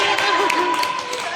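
A group of girls clapping on a day out at the beach, rapid hand claps close by mixed with lively chatter and voices throughout.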